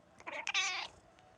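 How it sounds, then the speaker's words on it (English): A cat gives a single drawn-out meow, fairly close but soft, rising then fading over about a second against a quiet background. "Yeah, kitty cat."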